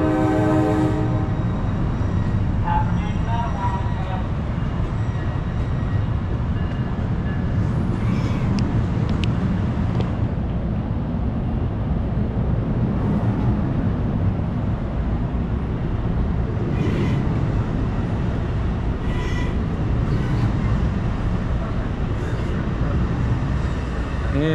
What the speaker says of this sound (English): Oh, and here goes my train.